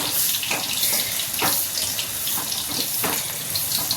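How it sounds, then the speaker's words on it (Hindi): Water poured into a pan of simmering bakla (broad bean) vegetable curry with potato and tomato on a gas stove, a steady splashing pour running throughout at moderate loudness with no talking. "अब देखिए इस सब्जी में थोड़ा सा पानी हम और डाल देंगे"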